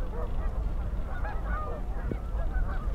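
Canada geese and snow geese honk at a lake among a large flock of waterfowl, a dense, continuous chorus of overlapping calls at moderate distance with no voices.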